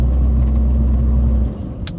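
A car rolls along toward a soybean field in Ternopil region, its low engine rumble and road noise steady and close, easing off slightly near the end with a brief higher rattle.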